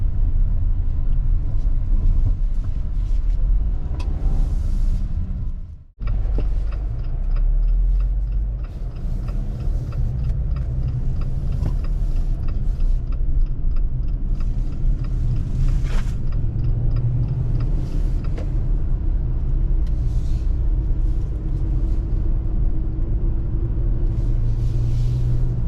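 Steady engine and road rumble from inside a 2023 Jeep Compass Trailhawk 4x4 on big Falcon tires while driving, continuous and loud with a brief dropout partway, plus light ticking.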